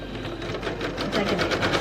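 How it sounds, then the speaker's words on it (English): A sewing machine stitches a quilt seam in a steady, fast mechanical whir with even needle pulses, close and continuous, with no talking. "I'm just sewing a 1/4 of an inch away from that"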